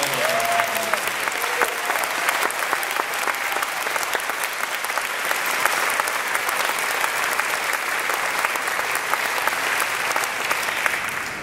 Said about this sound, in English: Can we have a big round of applause for all of them?